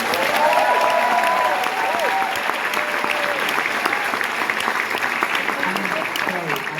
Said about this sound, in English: So can we just get a round of applause for Gail?